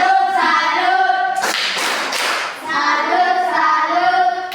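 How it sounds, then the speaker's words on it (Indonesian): A fourth-grade class performs a rhythmic clapping cheer for a classmate group, children chanting in unison before and after a short burst of quick, close hand claps in the middle. "tepuk tangan, tepuk salut untuk kelompok 1"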